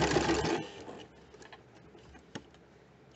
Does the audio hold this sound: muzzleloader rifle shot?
no